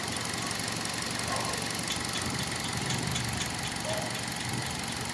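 A 2011 Hyundai i10 Sportz petrol car engine idles close by, a steady even rumble with a faint ticking clatter, no voices.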